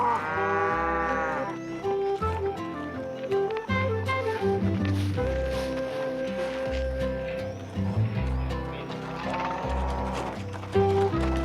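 A cow moos loudly over bustling music in a 1973 film, with hooves and movement mixed in; the lowing stands out near the start and again near the end.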